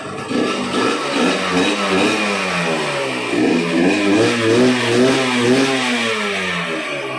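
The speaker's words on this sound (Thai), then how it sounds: "เดี๋ยวมาฟังเสียงเครื่องครับ เครื่องติดง่ายนะครับ" Yamaha TZR150 motorcycle engine revving steadily and loudly up close, with rising and falling pitch sweeps over a continuous rough mechanical drone.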